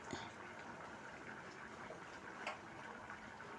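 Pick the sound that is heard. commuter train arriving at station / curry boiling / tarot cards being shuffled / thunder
curry boiling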